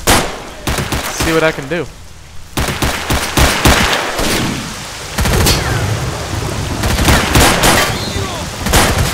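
Gunfight in the video game S.T.A.L.K.E.R.: Shadow of Chernobyl, with dense bursts of gunfire and sharp cracks that crowd together through most of the stretch, loud and close, while someone talks briefly near the start.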